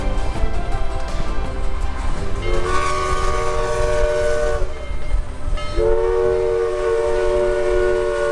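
A train rolls past with a continuous loud rumble and clatter, its horn sounding in two long, steady blasts separated by a short gap.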